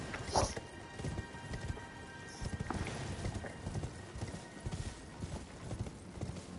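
Rapid, rhythmic video game horse hoofbeats clatter steadily for several seconds, with a brief whinny near the start, fairly quiet overall.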